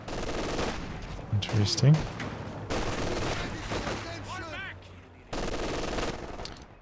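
A Maxim machine gun fires in the wartime strategy game Company of Heroes 2 during a 4v4 match. Several dense bursts of rattling fire come in separate blocks with short silences between them, and a voice speaks briefly over it.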